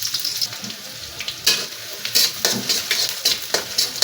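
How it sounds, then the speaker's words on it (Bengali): Onions frying in oil in a wok, a close crackling sizzle broken by regular scraping strokes of stirring, several bursts in quick succession with no talk. "আমি পেঁয়াজগুলোকে একটু হালকা করে নেড়ে নিচ্ছি"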